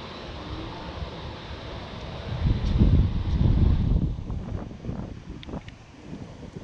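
Gusty wind blowing outdoors beside water while fishing, buffeting the microphone in a loud rush that swells in the middle and then eases, with faint splashing or rustling and no talking.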